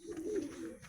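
A high flyer pigeon coos once, soft and close, a brief low throaty murmur from one of a male and female pair.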